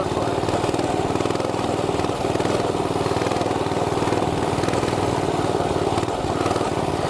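A mini bike engine runs steadily while riding a bumpy off-road bike path, a close, constant buzzing putter with a fast regular firing pulse and no clear revving.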